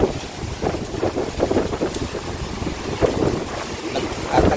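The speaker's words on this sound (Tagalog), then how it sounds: "Galit na lalo ang alon." Rough, stormy sea surges around a small boat as strong wind buffets the microphone, a steady roar of waves and gusts with no one speaking.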